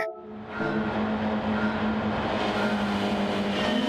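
A pack of race cars in an online league race on a racing game roars off the starting grid: after a brief quiet moment, many engines surge together into a loud, steady, buzzing roar.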